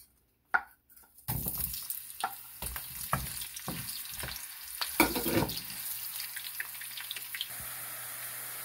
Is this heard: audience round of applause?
no